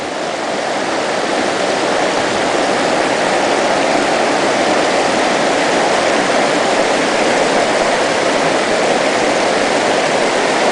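Creek water rushes steadily through a sluice in its current, a loud continuous broadband wash with no breaks or voices.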